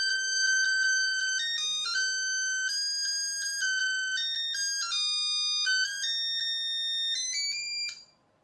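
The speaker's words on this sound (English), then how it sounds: "It's got little music or sound effects in it." A small electronic spinning top, a Christmas toy, plays a bright beeping electronic tune of quick stepped notes that runs steadily, loud and close, for about eight seconds before cutting off.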